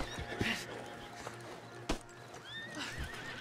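Horses in a Red Dead Redemption 2 game scene give sharp neighs and whinnies, with scattered hoof clip-clops and thuds, fairly faint and with no talking.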